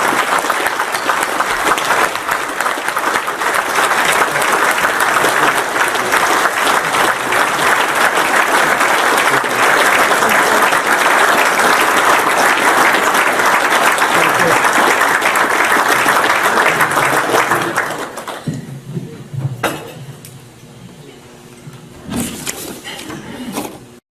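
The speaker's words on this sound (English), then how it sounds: "Let's give a round of applause to Roland and his family." A crowd at a leadership talk applauds Roland and his family with loud, sustained clapping for about eighteen seconds, then it thins out into scattered claps and quiet room noise.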